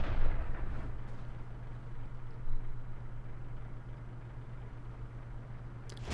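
A Caernarvon tank's main gun firing in World of Tanks: a heavy boom opens, followed by a long low rumble and engine drone, with a smaller thump midway and no talk.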